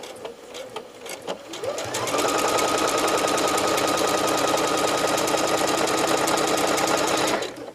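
A sewing machine runs in one long, fast, even burst of rattling stitches while sewing a pieced binding onto a quilt, starting after a few soft handling sounds and stopping abruptly near the end.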